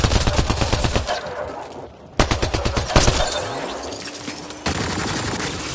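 Enemy automatic gunfire in Mass Effect Andromeda, rapid rhythmic volleys of shots, loud and close, pausing briefly before resuming in fast bursts.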